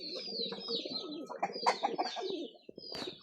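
A homing pigeon breeder hen coos softly nearby in a series of low, throaty rolling calls, with a few higher chirpy notes mixed in.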